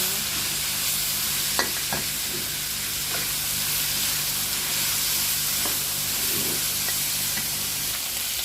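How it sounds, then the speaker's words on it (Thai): Pieces of pork stir-frying in a hot pan give a loud, continuous close sizzle, broken by occasional spatula scrapes and taps. "ใส่หมูชิ้นไป ผัดหมูให้สุกก่อนนะคะ"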